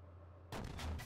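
A tank main gun fires in the Steel Beasts simulation game, a single loud booming shot that breaks a quiet low hum and then rumbles on briefly.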